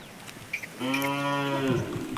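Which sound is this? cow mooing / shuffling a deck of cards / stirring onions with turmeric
cow mooing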